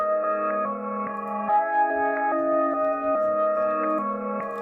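A dry, plain melody of clean sustained tones moves through a short stepwise phrase, steady and close, with no voices or added ambience.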